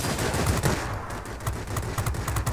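Aircraft machine guns on a Mustang IA fighter in World of Warplanes fire in loud, rapid bursts of gunfire, with a brief pause in the middle, close and with no talk.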